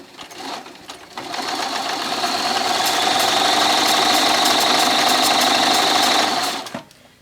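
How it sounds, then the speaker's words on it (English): Sewing machine stitching the hem of a cotton T-shirt sleeve, a steady, continuous mechanical whir for about five seconds after a few brief starts, close and loud with no talking. "And so I'm going to go ahead and start sewing."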